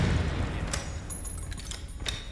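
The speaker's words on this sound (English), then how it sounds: "a literal mining bomb launcher" Mining bomb launcher firing in the video game Grave/Digger, with muffled booming impacts and crackling debris over a rumbling game background, followed by a couple of sharper bangs.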